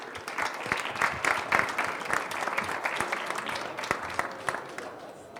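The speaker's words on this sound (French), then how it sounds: "Qu'on peut applaudir." Audience applause fills a hall at an awards ceremony, a dense steady wash of many hands clapping that swells and then eases slightly toward the end, with no voices over it.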